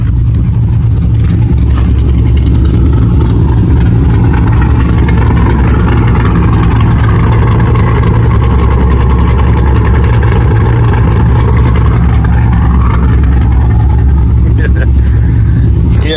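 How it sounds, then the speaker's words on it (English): Idling engine of a cammed, tuned Dodge SRT with aftermarket cam, a steady loud low rumble with an uneven chopping lope, heard close from outside the car with someone talking over it. "Hold on, y'all gotta hear it chopping."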